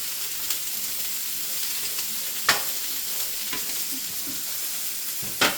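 Food sizzles steadily in a hot pan for nachos, a constant frying hiss broken by a few sharp crackles and pops, with no talking.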